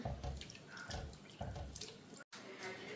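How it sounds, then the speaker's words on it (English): Tap water runs into a pot of chicken feet in a kitchen sink, a steady splashing fill that swells and fades in short surges, close and fairly quiet. "fill it up with water, and put apple cider vinegar inside"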